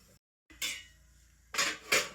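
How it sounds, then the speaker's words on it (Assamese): A metal lid clanks onto a wok set up for steaming eggs. Two or three sharp, close metallic knocks and scrapes are separated by quiet moments, and no one speaks. "এতিয়া ঢাকনি মাৰি দিলোঁ।"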